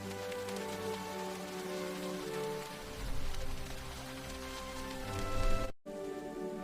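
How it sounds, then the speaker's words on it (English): Steady rain patters on surfaces outdoors, a soft continuous hiss with a few louder swells, ending in an abrupt cut. "It is raining."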